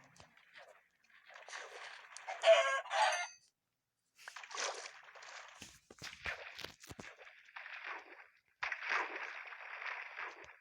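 Chickens clucking in a video game, several short bursts of fowl calls and cackling with gaps of silence between, fairly close, footstep-like clicks mixed in.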